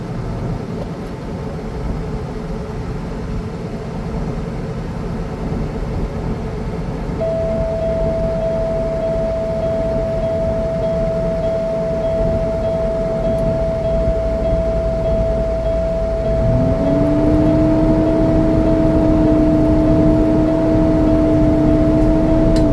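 A Class A truck engine idles steadily to build air pressure to 120, a loud, constant low rumble with a faint whine and a second tone rising partway through.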